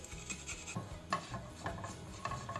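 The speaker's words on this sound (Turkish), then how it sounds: "Ve 2 diş sarımsağımızı rendeliyorum." Garlic cloves rubbed against a metal grater in a kitchen make soft, irregular rasping scrapes, quiet and close, with light clinks in between.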